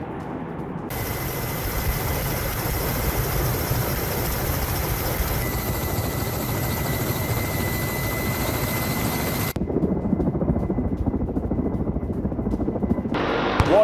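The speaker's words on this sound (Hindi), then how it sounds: "हेलीकॉप्टर से भी गिराए विनाशक बम" Military helicopters flying during the Russian Zapad 2025 war drill, a loud continuous rotor and engine roar with a steady high whine, shifting in tone partway through, heard alone without voices.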